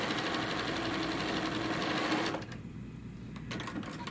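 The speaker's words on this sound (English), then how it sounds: "I'm going to sew along, so the edge of the foot is right along that line" A sewing machine stitches a quilt seam in a fast, steady mechanical run that stops partway through, followed by quieter handling sounds.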